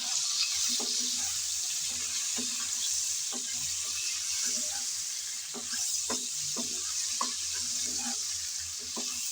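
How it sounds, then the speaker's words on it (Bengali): Okra and potatoes sizzle in hot oil in a pan while a spatula stirs, steady frying hiss with intermittent scraping and clinking taps, close and moderate in level. "ঢেঁড়স দেওয়ার পর নেড়েচেড়ে একটু মিশিয়ে নিলাম"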